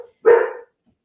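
A single short, loud bark from a dog, close by, with silence before and after.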